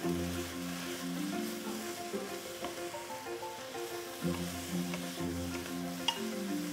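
Side dish cooking in a pan over medium-low heat, a steady close sizzle and frying crackle with occasional stirring scrapes, continuing evenly throughout with music playing underneath.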